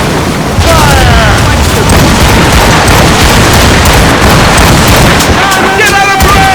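Ship cannons fire in a naval battle in Assassin's Creed Rogue, a loud sustained roar of overlapping booms with shouted crew voices and whistling shots cutting through the din.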